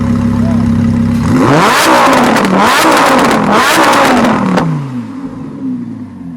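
A matte grey 2015 Lamborghini Huracan LP 610-4 V10 idles close and loud, then revs hard several times in rising and falling surges before settling back toward idle.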